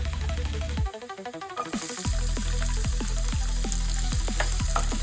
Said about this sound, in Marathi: चांगलं परतवा कांदा लाल होईपर्यंत परतवून घ्या